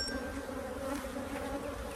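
Honeybees buzz continuously at an opened hive frame carrying drone cells, making a dense, steady drone close by with no voices.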